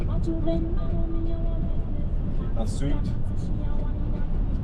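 Steady low road rumble and engine drone inside a car driving on the autobahn, with someone talking briefly over the constant interior noise.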